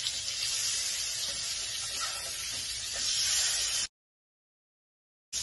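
Fish flipped in a hot pan, a loud, steady sizzling hiss that runs alone and then cuts off abruptly to silence.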